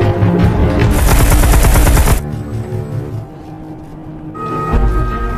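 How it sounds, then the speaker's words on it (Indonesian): Rapid bursts of loud gunfire in a sniper film rattle for about two seconds, then give way to a quieter rumbling, tense background with sustained tones. "karena tembakan yang dilancarkan komandan"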